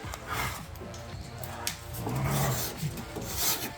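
Wood filler is rubbed and scraped into an outdoor slat-top wood bench, a close, continuous rasping and smearing with short scrapes.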